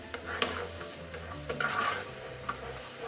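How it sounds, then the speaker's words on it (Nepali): A spoon stirs and scrapes sugar syrup for jalebi as it boils in a pan, with repeated close scraping strokes and a soft bubbling sizzle underneath. "चाहिँ मजाले चलाउने"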